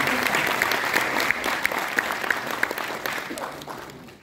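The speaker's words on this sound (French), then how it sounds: "Merci de les applaudir." Applause from an assembly at a national conference of Senegalese students in France, full clapping that slowly thins, with a few sharp distinct claps, fading toward the end.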